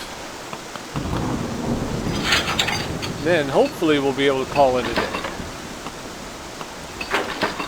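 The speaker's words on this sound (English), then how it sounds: "Get in out of the rain a bit" Rain falls steadily and thunder rumbles in a plane mechanic simulator game, the storm keeping up a constant wash of noise while someone talks over it.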